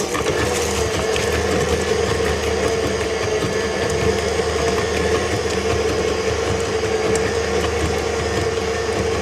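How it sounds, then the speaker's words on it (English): A KitchenAid stand mixer fitted with a spatula attachment churns meatloaf ingredients, giving a steady, close motor whir with a faint mechanical rattle that runs without pause and without talk. "I've locked the KitchenAid in place, and I'm going to mix the ingredients."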